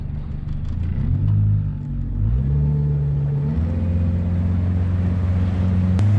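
A boat engine at about 3000 rpm builds steadily as the craft begins to rise toward planing, a loud continuous low drone with shifting pitch and a brief click near the end.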